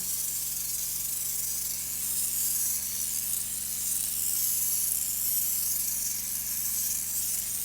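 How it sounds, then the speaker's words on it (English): A continuous, even spraying hiss from a spray bottle runs without a break for several seconds, steady and fairly close, during a facial skin care routine. "We're gonna give it one more spray because it kind of dried already."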